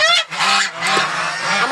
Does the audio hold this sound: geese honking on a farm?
yes